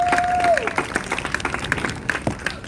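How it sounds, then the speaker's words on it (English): An audience at a panel event applauds, a steady wash of clapping with a few louder claps poking through, moderately loud with some crowd murmur beneath. "So round of applause for those individuals."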